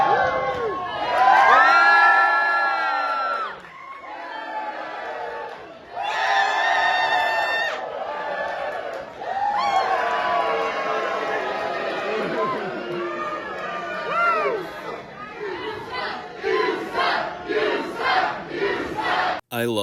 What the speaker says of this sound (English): Marty got the crowd to chant "You suck" at the referee